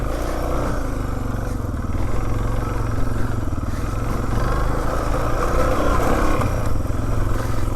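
An off-road motorcycle crawls over rocks in first gear in the Golan Heights, its engine holding a steady, close, throbbing drone with faint clatter from the rough ground.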